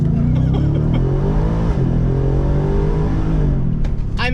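A 2023 Ford F-150 Raptor R pickup launching at full throttle from a standstill, its engine roaring loud and close as the pitch climbs steadily through the revs, with no talk over it.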